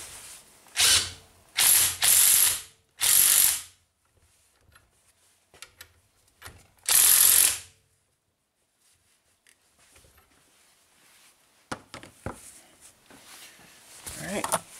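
Impact gun removing a strut nut during a strut replacement: several loud bursts of hammering rattle lasting about a second each, separated by pauses, then quieter ratchet clicks and metallic handling.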